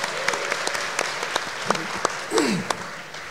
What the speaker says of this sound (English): would you please give a warm round of applause for Patrick Grove and Yang Berhormat